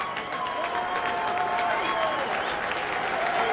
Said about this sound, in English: giving Tony Gwyn an ovation, many of them standing, rising to their feet as he comes up for the first time.